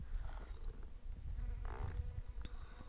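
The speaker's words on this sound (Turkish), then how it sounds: "Arılar polen alıyor içinden." Faint, soft buzzing of bees gathering pollen from crocus flowers hovers close by, a low steady drone with no one speaking.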